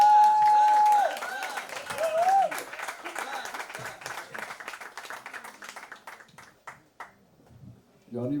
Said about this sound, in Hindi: जॉनी भाई के लिए जोरदार तालियां।